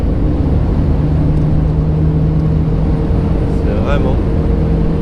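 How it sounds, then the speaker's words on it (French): An Alfa Romeo Spider 1750 engine roars loud and steady as the car accelerates. The rumble is broad and constant throughout, with a voice mixed in beneath it. "le bruit, vous voyez quand on accélère"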